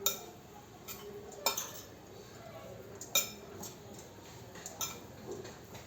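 A spoon stirs chili powder into a fenugreek-spiced curry of ivy gourd in a pot, giving a few sharp metallic clinks and scrapes spaced out over a quiet kitchen background.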